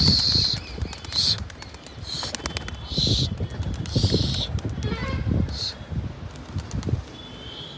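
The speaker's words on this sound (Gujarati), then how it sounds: "તો આપણે કબૂતરા ઉડાડી દીધા છે." Pigeons take off together in a brief burst of flapping wings, with rustling and scattered bird movement nearby, over a steady murmur of outdoor background noise.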